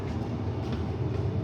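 A Sunshine Coast Line passenger train runs between Nambour and Gympie North in Queensland, giving a steady, close rumble from inside the carriage with no talking.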